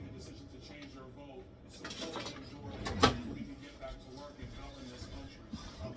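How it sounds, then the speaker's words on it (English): A spoon clinks and scrapes in a bowl of vegetables and ground meat being mixed as stuffing for peppers and cabbage, making a few soft knocks with one sharper clink, while a person talks. "I'm gonna get a spoon, mix these up."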